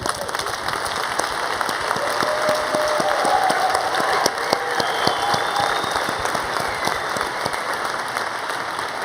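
Applause from a large conference audience at a global health plenary session, sustained and even clapping with a few sharper individual claps standing out, continuing throughout.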